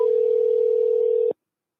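A phone line carries a single steady electronic tone for just over a second before cutting off abruptly into silence as a call is placed.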